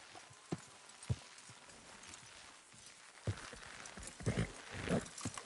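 Horses' hooves clip-clop in Red Dead Redemption 2, irregular soft thuds of a few hoofbeats spread across the moment, faint and moderately near, with a horse snort or movement toward the end and no talk.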